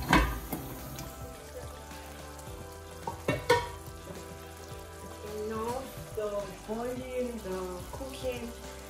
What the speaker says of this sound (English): Transferring the spaghetti inside the stew. So I'll just be stirring it together